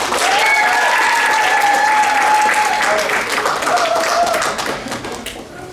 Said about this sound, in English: So please give a round of applause to Nicole Costa.